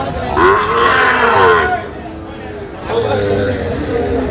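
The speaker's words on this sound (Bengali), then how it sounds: "মাথাটা বেশ সুন্দর কালারফুল গরুগুলো সংগ্রহ করছে মাথারুল ভাই" Cattle at a livestock market for small bulls and calves, two loud, drawn-out moos close by, separated by a brief pause, over background crowd noise.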